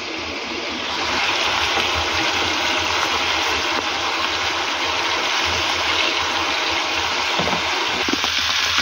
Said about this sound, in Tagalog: bubuhos na natin yung ating pinagbabaran